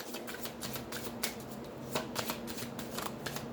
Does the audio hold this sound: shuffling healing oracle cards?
yes